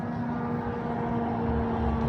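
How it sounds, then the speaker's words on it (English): A military drone flies close overhead in Ukraine, a steady loud engine drone with a sustained high whine running unbroken throughout, no talking. "The drone is so loud, I think it's close."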